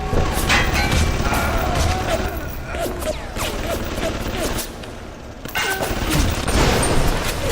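Turrets firing in the video game BioShock, rapid bursts of dense gunfire and mechanical clatter, loud and continuous with a brief lull, as a player speaks over the shooting.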